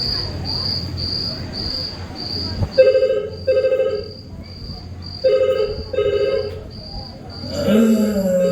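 A telephone rings at night in repeated electronic bursts, loud and close, over a steady chorus of chirping crickets, with a brief rustle at the end.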